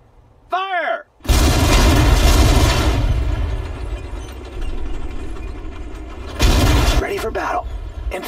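Battle gunfire and explosions in the World War II strategy game Sudden Strike 4, a loud sustained barrage of shots and booms with a brief lull before another burst, alongside brief unit voice responses.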